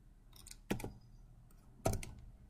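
A few isolated keystrokes on a computer keyboard, two sharp clicks spaced about a second apart with faint tapping between them, close and quiet in an otherwise still room while installing a PowerShell package for SharePoint Online.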